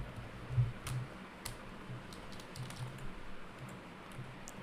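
A username is typed on a computer keyboard: a short run of soft, close keystrokes in an irregular rhythm over a faint room hum, with no talking.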